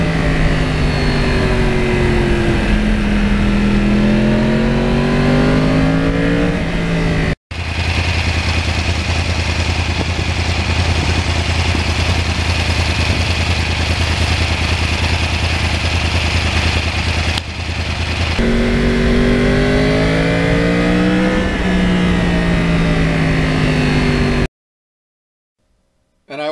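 A 2009 Yamaha R1 crossplane motorcycle engine revs loud and close, with rising and falling rev sweeps, a steady high-rpm stretch in the middle, then more revving before cutting off abruptly.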